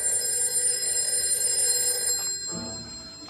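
An old-style telephone bell rings steadily, fairly loud and close, then the ringing stops abruptly near the end.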